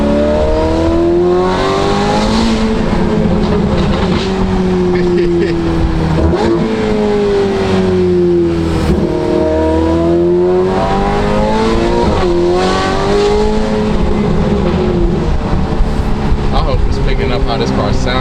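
A modified Ferrari F8 Tributo with an aftermarket exhaust and tune roars loudly while driving, its engine revving up and down in repeated sweeps, with people talking over it.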